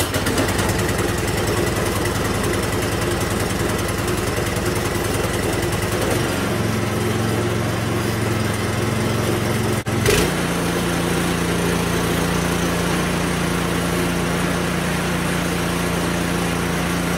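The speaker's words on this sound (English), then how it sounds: "This is quieter than the stock muffler." A Predator 212cc small gas engine fitted with a quieter aftermarket muffler runs steadily for the whole stretch, a continuous droning exhaust hum that shifts to a lower, smoother idle partway through, with no talking.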